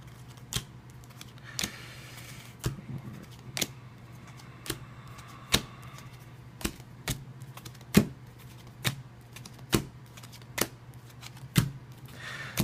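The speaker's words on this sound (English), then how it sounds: "so we'll deal the cards" Playing cards dealt out for a Twilight Struggle board game, a dozen or so crisp snapping flicks at a steady, unhurried pace, each card distinct and close.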